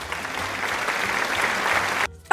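Steady applause from a group, close and evenly dense for about two seconds, then cut off abruptly.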